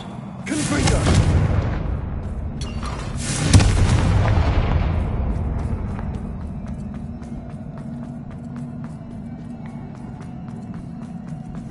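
Confringo spell blasts in the Hogwarts Legacy video game: two heavy, booming explosions in quick succession, each with a long rumbling tail that fades into quieter game ambience.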